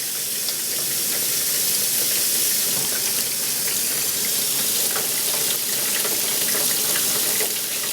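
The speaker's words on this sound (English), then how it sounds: "you literally just run cold water along the outside" Cold tap water runs in a strong, steady hissing stream over the outside of a pressure cooker in a kitchen sink to depressurize it, loud and close, unbroken, with no talking.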